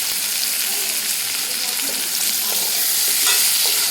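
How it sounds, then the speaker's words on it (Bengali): Steady, fairly loud sizzle of food frying lightly in a little too much oil, with cumin powder added for a baby's gravy dish; faint stirring scrapes come through near the end, with no talk. "আজকে মনে হচ্ছে তেলটা একটু বেশি দিয়ে ফেললাম একটু হালকা ভেজে নিয়েছি"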